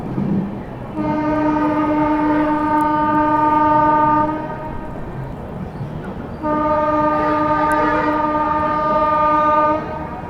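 The Mau–Anand Vihar superfast express sounds its horn twice as it passes, each long, loud, steady multi-tone blast lasting several seconds over a rumble of moving rail cars.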